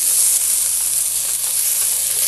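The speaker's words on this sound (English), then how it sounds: "And you want to saute this for a couple minutes so it can get soft." Chopped onion sautés over medium heat in a soup pot, giving a continuous loud, even hiss and sizzle with no pauses or talking.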